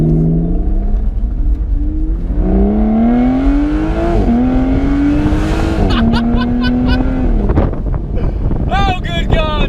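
A 2018 Aston Martin Vanquish S Ultimate Edition convertible, roof down, revs its engine repeatedly, the note climbing through the gears and dipping between shifts, with steady wind rush over the microphone.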